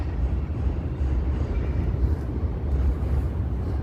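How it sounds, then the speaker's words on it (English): A southbound Red Line elevated train in Chicago passes near Bissell Street, producing a loud, steady rumbling roar with low-end weight that holds for the whole stretch. "You hear the sound of the train."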